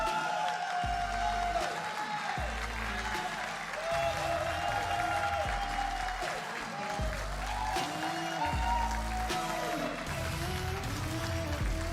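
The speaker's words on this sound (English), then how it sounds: "I'm hearing loads of cheering over from this side over here." A crowd at the Commonwealth Esports Championships in Birmingham 2022 claps and cheers for Team Malaysia, a dense sustained ovation with rhythmic thumping underneath.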